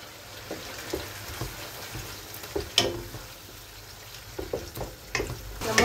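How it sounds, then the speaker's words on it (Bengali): Meat masala with ginger, garlic and tomato sizzles and fries in a pan, a steady close crackle with scattered sharper pops and occasional stirring scrapes, no voices over it. "মশলা দিয়ে কষাইতেছি"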